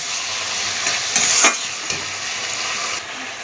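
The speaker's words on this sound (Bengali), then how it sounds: "এবার এটা দিয়ে ভালোভাবে কষিয়ে নেব।" Chili egg masala with vinegar stir-fries in a pan with a steady, loud sizzle and hiss, broken by a few sharper scraping stirs near the middle.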